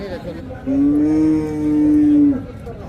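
At a Dhaka livestock market selling deshi bulls, a single loud, drawn-out cattle moo rises and holds for nearly two seconds close by, over a low background of market bustle.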